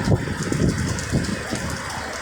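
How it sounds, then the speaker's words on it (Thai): Steady rain falls, a dense even hiss of drops hitting surfaces close by, with no voices. "ฝนมันลงเม็ดมาแล้วครับ"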